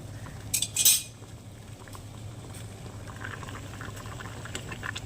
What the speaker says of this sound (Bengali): এবারে আমি জলটা থেকে ছেঁকে নেব